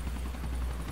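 Helicopter in GTA 4, a steady close rotor drone with low-end thump filling a brief stretch, no talk over it.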